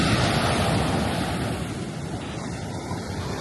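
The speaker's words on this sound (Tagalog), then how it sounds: "Ang lakas ng alon guys" Strong ocean surf pounds a Zambales beach, a loud, steady wash of breaking waves with wind buffeting the microphone throughout.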